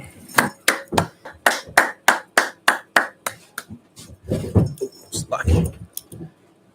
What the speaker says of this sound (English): Let's go ahead and clap that up.